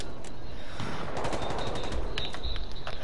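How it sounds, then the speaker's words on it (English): Rapid gunfire in a first-person shooter squad-duel match, bursts of sharp shots crackling over busy game ambience for a few seconds, moderately loud and fairly close. "Someone's shooting at us"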